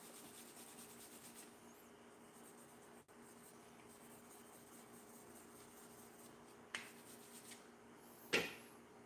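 Hands or a smoother rub steadily over fondant on a cake dusted with cornstarch, a soft continuous close friction hiss, ending with a couple of sharper taps or brushes.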